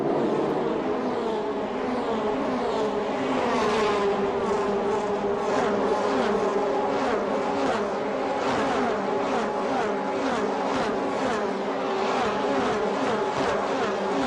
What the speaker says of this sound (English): the cars now come through the Blanchiment and back towards the final section of the track